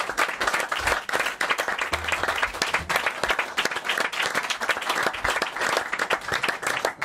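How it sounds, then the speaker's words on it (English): A capacity crowd at a football talk show event gives a steady, dense round of applause that holds at an even level throughout, with no speech over it. "give Jason Dozzell, he's one of our own, a big round of applause"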